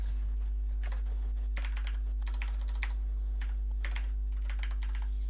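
Rapid clattering keystrokes on a computer keyboard during a Dungeons and Dragons tabletop session, steady bursts of typing close to the mic over a constant low electrical hum, with no voices.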